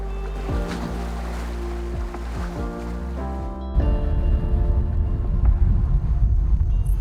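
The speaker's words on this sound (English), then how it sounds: "the bows cut through the waves and hum a tune familiar to sailors" The bows of a Seawind 1600 catamaran slice through ocean waves under full sail, a loud continuous rush and slosh of water with wind, with a heavier surge partway through.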